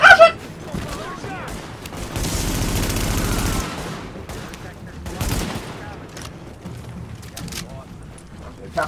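Gunfire in The Division during a rescue mission, with bursts of rapid shots and a sustained noisy volley in the middle, set against game ambience and intermittent talk.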